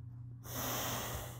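A forceful exhale through one nostril during alternate nostril breathing, a close, breathy rush of air starting abruptly after a quiet moment and holding steady to the end.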